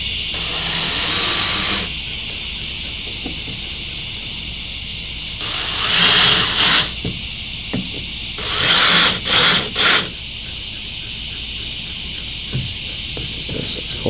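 A cordless screw gun drives a screw into a boat navigation light: several short whirring bursts, the first longer, then a few quick stop-start pulses as it snugs down, close and loud over quiet background.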